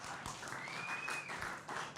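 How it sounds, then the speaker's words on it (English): A live audience at an AFL legends show gives a round of applause, a steady patter of many clapping hands, fairly distant and soft, lasting the whole two seconds. "Josh Kennedy, round of applause."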